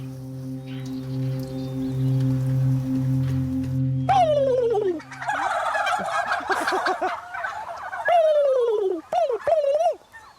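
Turkeys on a free-range turkey farm gobble loudly and close by in repeated rattling bursts that overlap, rising and falling across the second half, after a steady low droning hum at the start.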